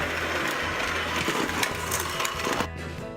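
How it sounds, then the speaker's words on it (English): An electric hand mixer creams butter and sugar in a bowl, a steady whirring drone with scraping and clattering against the bowl, ending with a sudden cutoff near the end; no voices. "mix it with our hand mixer until it is creamed"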